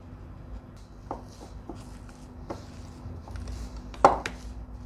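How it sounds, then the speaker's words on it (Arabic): Half a kilo of freshly boiled, still-hot potatoes being mashed for a potato pizza: soft, close squishing and scraping with scattered light knocks of the utensil against the bowl, one sharper clack near the end, no talking. "ده نص كيلو بطاطس مسلوقه وهنهرسها"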